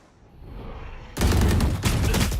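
Rapid bursts of gunfire in the tactical shooter Valorant during a professional FaZe Clan vs OREsports match on the map Bind, a quieter opening giving way to loud, dense volleys of shots that continue to the end.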